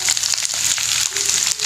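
Two large chopped onions frying in hot oil in a pan, a close, bright steady sizzle with light crackling and stirring scrapes throughout.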